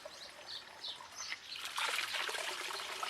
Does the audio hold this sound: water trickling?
yes